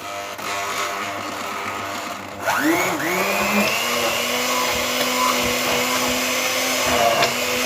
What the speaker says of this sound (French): Autrement, vous allez la mixer, ce que je vais faire. Donc voilà, j'ai préparé mon mixeur.